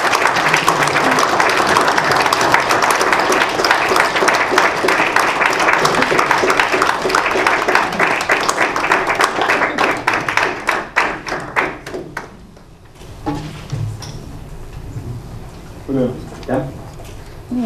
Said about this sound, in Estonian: Oma aplausid.